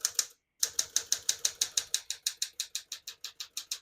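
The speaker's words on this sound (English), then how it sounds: "We're going to keep that on single for now and finish typing." Typing on a 1958 Smith-Corona Super 12 portable typewriter: crisp, close keystroke clacks in a quick even rhythm, a brief pause, then a long steady run of strikes gradually softening.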